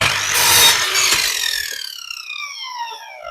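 A saw trims the end off a wooden piece, a loud close burst of rasping cutting that fades out, followed by a ringing tonal decay as the blade spins down.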